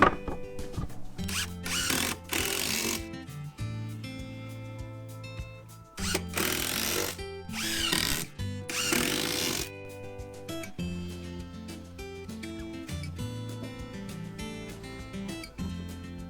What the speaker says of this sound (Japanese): 毛込み板は多めにしっかりとビスで留めていきます。